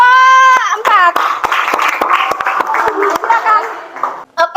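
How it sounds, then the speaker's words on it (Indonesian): A classroom of students claps for a student group, with sharp, scattered hand claps mixed with voices calling out over them. "tepuk tangan untuk kelompok 4"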